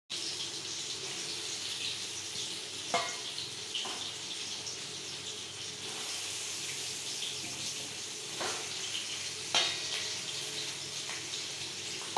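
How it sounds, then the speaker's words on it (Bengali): Potatoes frying in oil for aloo dum, a steady hissing sizzle running unbroken at moderate level, with a few faint clicks and taps. "ভেজে নেব।"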